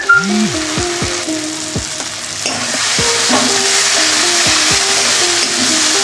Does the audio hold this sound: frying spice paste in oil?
yes